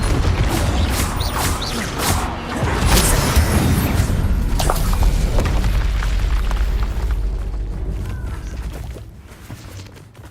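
Booming spell blasts and magical explosions from the video game Hogwarts Legacy, loud and dense throughout with rumbling bursts and crackling impacts, fading toward the end.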